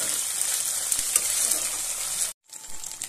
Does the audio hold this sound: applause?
no